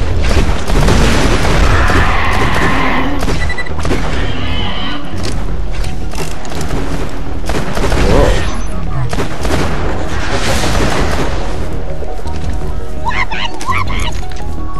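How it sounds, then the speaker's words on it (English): Booming weapon fire in the Borderlands 2 video game cracks and thuds repeatedly over a long stretch, mixed with character voices talking. "Just follow the weapon sound. When the bang gets louder, you're getting closer."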